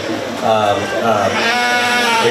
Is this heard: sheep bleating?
yes